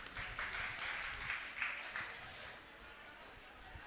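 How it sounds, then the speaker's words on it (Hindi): An audience at a Jain religious sermon in Jhotwara claps together, a faint, soft patter of applause lasting several seconds. "ताली बजाओ इनके लिए।"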